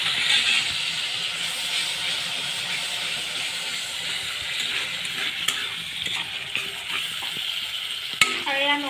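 Garlic paste with a splash of water sizzles over a low gas flame in a pan for drumstick curry, a steady loud hiss with a few stirring clicks and scrapes near the end.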